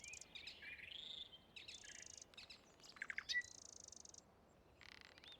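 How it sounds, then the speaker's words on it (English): A nightingale sings in short bursts of varied whistles, trills and chirps, with pauses between phrases, over a faint steady insect buzz. "A nightingale, actually."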